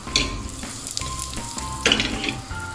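Chilli powder, coriander-cumin powder, asafoetida and turmeric frying in hot oil give a steady close sizzle, with bursts of louder crackling and some stirring noise.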